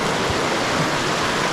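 Spring water flows steadily at Ricks Spring in Logan Canyon, Utah, a constant close rushing wash like a small stream or cascade, with no voices.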